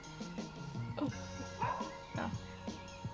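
A dog inside a van whimpers and yips, repeated short, soft whines and small barks close by, with low voices faintly in the background.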